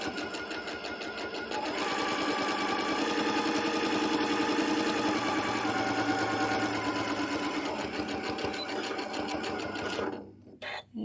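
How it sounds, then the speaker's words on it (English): Sewing machine stitching fabric along a crease, a close steady mechanical whir that runs for several seconds, then slows and stops near the end, with a faint voice briefly under it. "finish right where that crease is. And these, like I said, these don't have to be perfect. So, and take a couple of back stitches."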